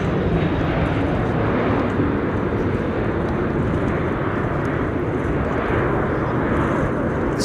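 A Boeing 737-700 airliner at windy Amsterdam Schiphol Airport gives a loud, continuous broadband jet roar that holds steady throughout, mixed with wind noise.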